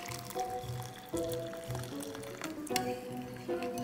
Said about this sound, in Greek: Βάζουμε και 300 ml κρύο νερό.